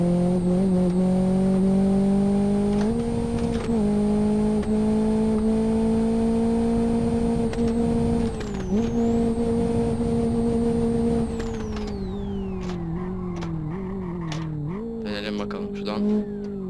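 Renault Megane engine in a driving video game, a loud steady revving drone that holds pitch, dips briefly, then winds down as the car slows, with tire noise toward the end and a voice talking over it.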